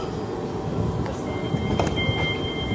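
Interior of a moving UK passenger train between Ascot and Maidenhead, a steady low rumble of wheels and carriage noise filling the clip, with a faint tone and light rattles above it.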